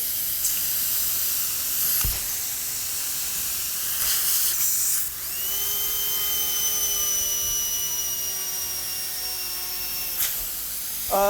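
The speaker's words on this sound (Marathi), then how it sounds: "गॅसवरती न ठेवता कुकर शिटी वाजवायला लागला" A cold pressure cooker pressurised with liquid nitrogen, off the stove, vents steam with a loud hiss before its whistle breaks into a sustained, steady shrill tone that holds for about five seconds and then stops.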